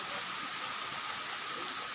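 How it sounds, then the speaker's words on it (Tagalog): Heavy, unbroken rain falls during Typhoon Kristine in Palompon, Leyte, a soft, even hiss that holds steady throughout without letting up, fairly quiet and with no voices over it. "Hanggang magdamag ang ulan, walang putol"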